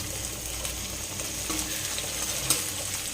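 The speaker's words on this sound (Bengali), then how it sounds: "এদিকে পেঁয়াজ ভাজা কমপ্লিট হয়ে গেছে। এবার টমেটোগুলো এর মধ্যে দিয়ে দিলাম।" Tomatoes added to fried onions sizzling in a pan, a continuous soft frying hiss with occasional light clinks and stirs, fairly close and without voices.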